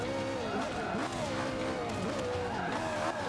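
A race car skids through a corner in Forza Motorsport 5, with wavering tire squeal over engine noise for a few seconds, moderately loud against the game's background.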